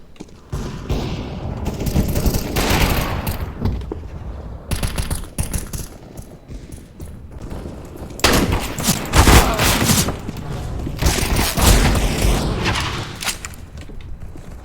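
Counter-Strike gunfire rattles in repeated bursts of automatic fire with booms throughout, loud and close, forming a dense fusillade with gaps between volleys.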